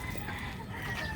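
Backyard hens clucking softly nearby, a brief run of low murmuring calls over a steady outdoor background.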